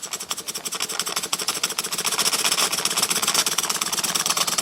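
Cotswold Heritage Cirrus model steam beam engine running on steam from a Stuart 501 boiler, picking up speed with a steady, fast, continuous mechanical chuffing and rattling that stays loud and even throughout.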